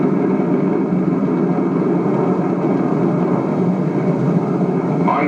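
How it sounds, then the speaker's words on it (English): A high-speed F-84F Thunderstreak jet fighter roars steadily and loudly past, a continuous broadband engine rush filling the whole moment without a break or voices. "High-speed F-84F Thunderstreaks accomplished this evaluation."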